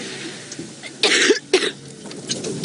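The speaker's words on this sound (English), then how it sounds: "Sorry everybody for the coughing." A person gives two harsh coughs in quick succession, close and fairly loud, over a steady outdoor hiss from the bush.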